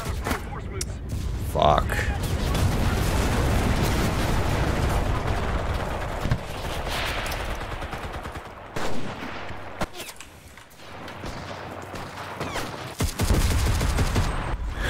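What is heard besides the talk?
suppressing gunfire in the video game Enlisted, M1 Carbine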